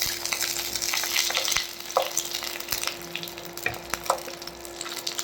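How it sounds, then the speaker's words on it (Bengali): Chhanar paturi, cottage-cheese parcels wrapped in banana leaf, fry in hot oil with a steady, close sizzle and a few clicks as the parcels are stirred and turned. No one speaks. "এভাবেই আমি দুদিক উল্টে পাল্টে ভালো করে ভেজে নেব"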